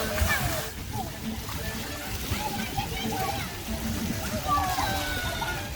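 Water splashing and sloshing as children bathe in a public fountain in Viña del Mar, with children's voices and people talking over the steady watery churn.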